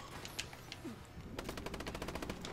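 In a Call of Duty: Advanced Warfare free-for-all match, a quick burst of rapid automatic gunfire sounds fairly faint, following a quieter stretch of game noise.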